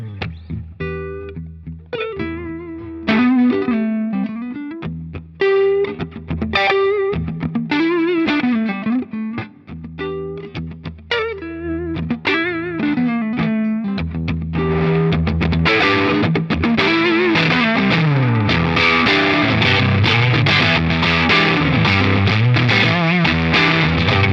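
An electric guitar through a PRS HX 100 tube amplifier with EL34 power tubes plays melodic lines with a warm amp tone, then shifts to heavily distorted, dense chords that sustain loudly to the end.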